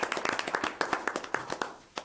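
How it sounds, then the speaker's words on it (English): A small group claps in a brisk, uneven round of applause lasting a couple of seconds, close and fairly loud, at a town Board of Selectmen meeting. "Can I get a round of applause?"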